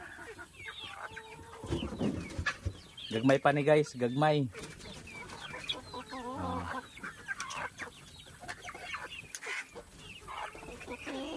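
Chickens cluck and chirp close by, with someone talking over them through much of the clip.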